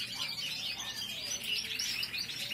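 Pet birds chirp busily in cooler weather, a dense, continuous chatter of high tweets from several birds close by, with no voices.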